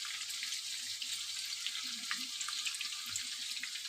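Fish curry spices sizzle in a hot pan of oil for a rohu recipe, with salt, chili, turmeric and chili powder added. A steady, close crackling hiss runs throughout, unbroken and with no talking.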